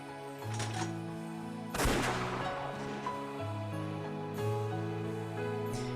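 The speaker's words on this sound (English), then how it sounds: "Without any hesitation or mercy, Eva raised the gun and pulled the trigger." Gunshot in the visual novel Umineko no Naku Koro ni: a single loud, sharp blast with a rumbling tail, rising out of a sustained musical score that carries on underneath.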